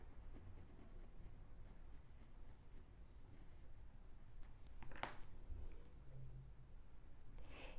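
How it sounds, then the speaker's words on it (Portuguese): Faint pen or chalk scratching as a sewing dart is drawn onto folded fabric, soft intermittent strokes close by in a quiet room, with a brief rustle midway. "Vou desenhar a minha pence."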